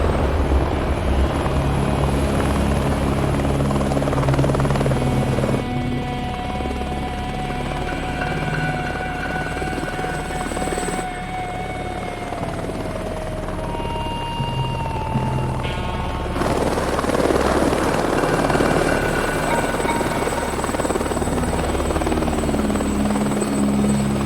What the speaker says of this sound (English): Big Deal's got his own helicopter service